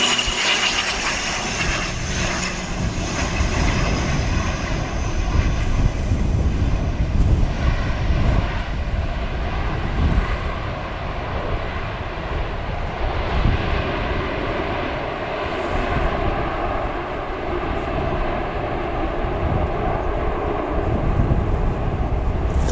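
A Qantas airliner, flight QF161, roars in to land at Wellington Airport, a sustained loud jet-engine rumble that swells and fades slightly over the long span, heard outdoors at a distance, with no talking.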